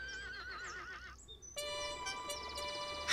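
A cartoon horse gives a bright, wavering whinny in a children's animated train story, followed by a burst of upbeat music.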